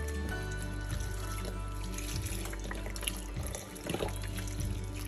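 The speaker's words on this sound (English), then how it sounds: "And then we are going to add a box of chicken broth." A box of chicken broth is poured into a crockpot, giving a continuous close liquid splashing and gurgling that runs steadily through the whole stretch, with a few brief clunks.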